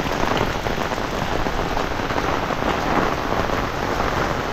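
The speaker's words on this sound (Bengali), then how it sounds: "বৃষ্টি হইতেছে," Rain falls steadily on a village, a dense, loud and even patter on surfaces close around with no voices.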